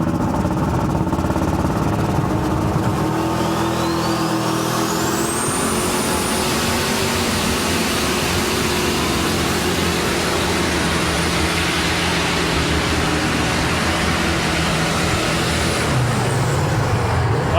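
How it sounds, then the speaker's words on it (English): Dan Lustig's V8-powered Silver Bullet pulling truck at a 2007 truck and tractor pull in Goshen, Indiana, a loud continuous engine roar with a rising high whine that climbs and holds through the run. "Of course, this one has the V8 power plant under the hood."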